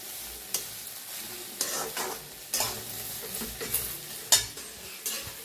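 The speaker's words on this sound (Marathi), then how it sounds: "असं छान भाजून घ्यायची बघा गवारी. गवारी जेवढी छान भाजेल तेवढी छान भाजी होणार आपली." Cluster beans roasting in a pan give a steady, fairly quiet sizzle, with repeated scraping stir strokes and a few sharper utensil knocks spread across the clip.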